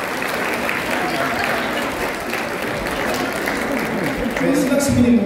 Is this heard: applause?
yes